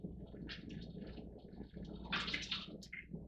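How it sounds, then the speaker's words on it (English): Distilled water splashing and trickling over mirror glass during rinsing, a faint, close, irregular wash of small splashes and drips with a brief louder gush near the end. "I'm going to go ahead and rinse it off. Always want to rinse with the distilled water."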